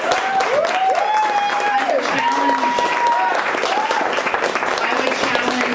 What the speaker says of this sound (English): I think the people that have masterminded and made this event possible need a huge round of applause